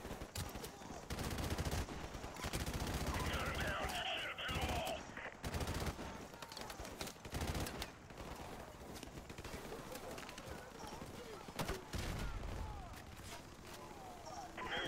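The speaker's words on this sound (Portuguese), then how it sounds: "Eu vou usar essa arma fixa só para matar esses inimigos que estão aqui na frente." A fixed mounted gun in Call of Duty: Modern Warfare Remastered fires in repeated bursts at enemies, sharp cracks and rattling volleys spread across the scene amid battle noise, with distant voices and chaotic background sounds.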